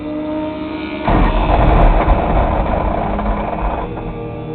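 A race car engine fires up after a second and runs at a steady, loud, buzzing idle close by at a racetrack, with no talking.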